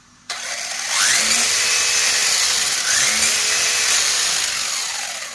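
The electric motor of a Wltoys 144010 RC car spins its wheels in the air with a loud, high whine that revs up, eases, then revs again, fading at the end.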